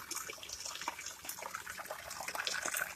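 Water pours steadily out of a leaking pipe at a cabin, a continuous close splashing gush with bright, hissing spray texture that stays fairly even throughout.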